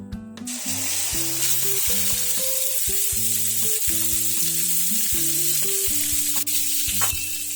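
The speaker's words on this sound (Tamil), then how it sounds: "நல்லா கிண்டி விட்டுக்கலாம்" Ground ginger, tamarind and chilli powder stirred in hot oil for a ginger pickle, a loud continuous sizzle with a few scraping strokes of a spoon, close up, over a steady tonal background hum, no voices.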